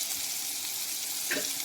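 Tomatoes frying in a pan for a tamarind-based curry give a continuous close sizzle, with a brief stirring scrape near the end and no voices.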